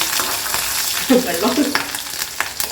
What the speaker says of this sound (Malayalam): ഇഞ്ചി വെളുത്തുള്ളി ചതച്ചത് എന്താ പൊട്ടിക്കുന്നു